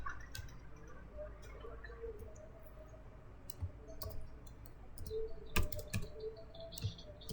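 Keys clack on a computer keyboard as a print command is typed, irregular close clicks in short bursts over a quiet background.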